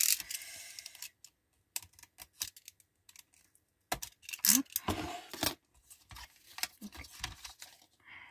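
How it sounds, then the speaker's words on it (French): Utility knife slicing open plastic packaging on a multipack: a series of sharp, close scratchy cuts and crinkles in irregular bursts, separated by short quiet gaps. "Je vais l'ouvrir, je prends un cutter."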